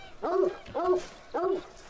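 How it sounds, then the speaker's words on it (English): A hunting dog in a hunting video game gives three short, happy barks at an even rhythm, each one bright with a whiny, yelping tone and close by, with brief quiet gaps between them. "I was just checking out the dog there because I like how he gets all happy and barks"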